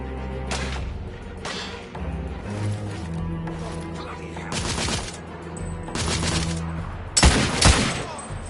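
Gunfire in a PS4 video game: repeated bursts of rapid shots, each sharp and loud, separated by short pauses, with in-game sounds and voices underneath and a heavier burst near the end.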